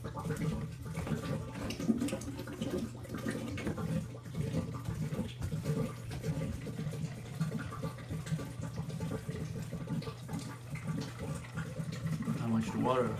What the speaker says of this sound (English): water is being filled.